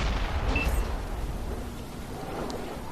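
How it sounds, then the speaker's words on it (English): A tank cannon firing in the World of Tanks video game, a heavy, booming blast with a long rumbling tail that fills the whole stretch, loud and close with no talk. "we're just unloading into that E50 now"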